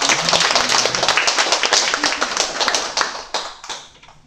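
A church congregation clapping to welcome newcomers, a close flurry of hand claps with distinct sharp strikes in a loose rhythm that thins and fades toward the end.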